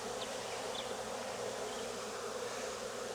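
A honeybee swarm being hived into a hive with brood frames in Jacksonville, Florida, gives off a steady, dense buzzing hum that holds unbroken throughout, close and even in level.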